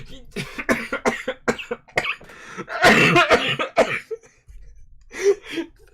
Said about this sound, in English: my throat tensed up, and I just coughed